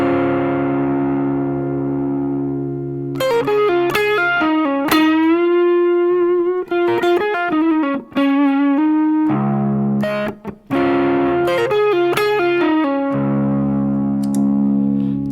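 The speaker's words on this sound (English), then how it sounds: "we'll start with this blue preset, which is the overdrive tone that you heard on the intro track" An electric guitar plays through an overdrive pedal on its blue preset, with a stereo reverb added. Sustained distorted chords ring out, then choppy, stuttering phrases break in and out, and no one speaks.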